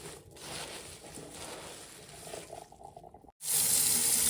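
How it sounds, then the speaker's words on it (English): Turnip greens being washed by hand in a kitchen sink under a running tap for a third rinse, a steady close splashing gush that drops out briefly near the end before the water surges back louder. "All right, let's get this 3rd wash done."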